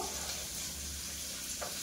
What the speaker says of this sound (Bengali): এবার ভেজে রাখা করি দিয়ে দেবো, খুন্তি দিয়ে নেড়ে চেড়ে দেবো